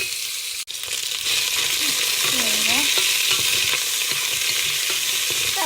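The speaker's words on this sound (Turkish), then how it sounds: "Şöyle güzelce bir kavuralım" Ingredients sizzle and fry steadily in a pan while being stirred, with occasional scraping of a utensil, for an okra stew; a continuous close frying hiss throughout.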